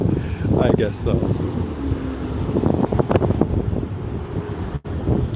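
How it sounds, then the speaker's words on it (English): Gusts buffet the microphone with low rumbling noise while a person talks over it on an evening street walk in Tokyo, the wind persisting beneath the voices. "It's a little bit windy."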